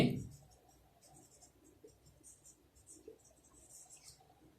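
Faint chalk or marker strokes write digits on a board during a primary-school math lesson, a soft continuous scratching at low volume.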